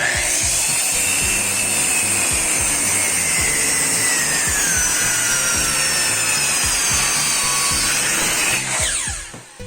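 Traditional hand saw cutting through a piece of wood, a loud, continuous rasping of steady back-and-forth strokes up close, with a scraping hiss that carries on for the whole clip before stopping at the end.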